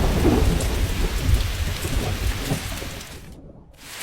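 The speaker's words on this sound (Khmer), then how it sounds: "ពេលនេះមិនក៏ភ្លៀងខ្លាំង" Heavy rain pours steadily and loudly with deep rumbling thunder underneath, continuous throughout before a brief dip near the end, with no voices.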